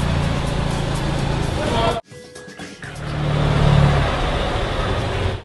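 A car pulls away with a rising engine roar that swells and builds in volume, heard close by over outdoor background noise after a brief cut.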